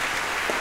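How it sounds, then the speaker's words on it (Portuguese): Audience applause at an OSPA orchestral concert in 2019, a brief dense wash of clapping at steady loudness. "uma salva de palmas para ela"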